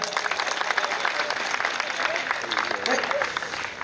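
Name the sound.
audience applause for the birthday guest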